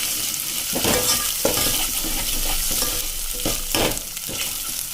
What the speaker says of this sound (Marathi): त्याला आता एकदम छान प्रकारे आपण हलवून घेऊया